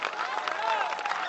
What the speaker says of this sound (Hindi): ताली ना बजो।